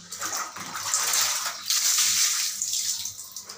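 Water splashes and pours over a child's feet at bath time in a washroom, coming in uneven surging gushes close by.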